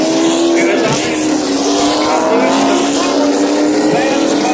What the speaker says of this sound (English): Here, a 30-lap race, 30-lap mini stock race.